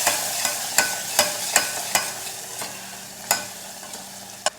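A spatula stirs a spice mixture of coriander-cumin powder and garam masala in a frying pan for a pigeon-pea muthiya curry, giving close, sharp taps and scrapes at a steady rhythm of about two per second, with no talking.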